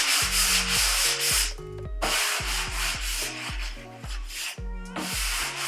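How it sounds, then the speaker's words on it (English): Wood being sanded down by hand for a small pantry, with steady, loud back-and-forth rubbing strokes in a close, repeating rhythm and brief gaps between passes. "we can go ahead and sand it all down"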